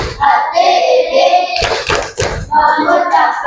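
A group performs a rhythmic thank-you clapping routine at an Indonesian religious gathering, with sharp sets of hand claps between stretches of chanted voices.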